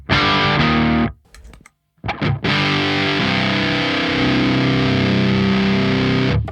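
A heavily distorted electric guitar through a KMA Machines WURM2 distortion pedal: a chord rings loud, cuts off briefly with a few muted scratches, then crashes back in and sustains thickly.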